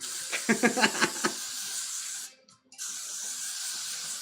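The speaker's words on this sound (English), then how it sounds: "pass me that blasting freeze spray" Blasting freeze spray hissing in steady bursts onto a wig, with a few clicks and taps at first and a short pause partway through.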